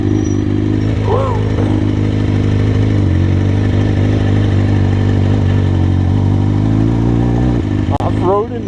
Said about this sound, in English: Off-roading in the street bike.